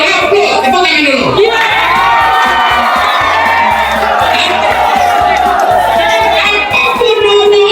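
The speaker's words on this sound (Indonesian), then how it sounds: "tepuk tangan dulu." Ninth-grade students at a school briefing cheer and shout together, a loud, continuous crowd roar that holds steady at close range throughout.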